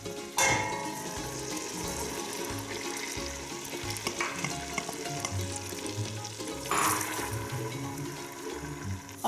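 Onions sautéing in butter for a bolognese lasagne sauce: a steady, close sizzle runs throughout, with stirring scrapes and a couple of brighter bursts as ingredients hit the hot pan.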